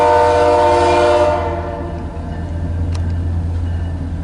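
A southbound BNSF manifest freight train in Fremont, Nebraska, ends a loud horn blast that cuts off after about a second, leaving the steady low rumble of passing rail cars.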